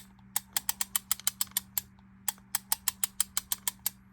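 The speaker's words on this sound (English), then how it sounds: "there's something grinding right about there" A stiff reel-to-reel tape deck mechanism clacks in a fast, even series of sharp mechanical ticks, about a dozen per burst with a short pause, over a steady low hum.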